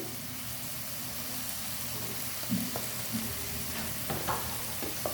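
Ground turmeric, coriander and cumin with salt and garlic fry in oil for palak paneer, a steady close sizzle broken by a few spatula scrapes and stirring knocks toward the end.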